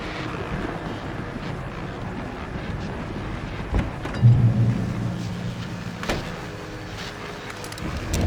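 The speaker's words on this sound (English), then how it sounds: "that storm we all felt coming is finally here" Thunderstorm in the video game Alan Wake Remastered: a steady wash of rain-like hiss with a low rolling thunder rumble swelling midway, then settling back into the constant storm noise.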